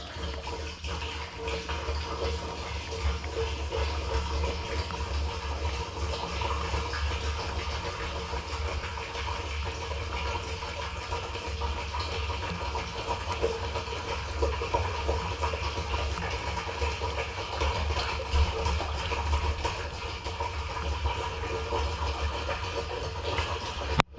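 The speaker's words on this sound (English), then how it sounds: "I'm just going to pour this whole jug in there." DEF fluid glugs steadily from a jug into water outdoors, a continuous splashing pour with an engine droning low underneath throughout.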